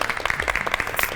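A studio audience at a televised cash-prize game show breaks into brief, dense applause, a short burst of clapping from many hands.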